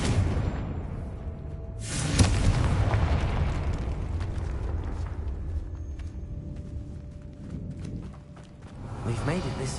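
Confringo fire spell in the Hogwarts Legacy video game bursts into a heavy booming explosion with a rushing whoosh, followed by a rumbling low tail, with a voice speaking over the game audio.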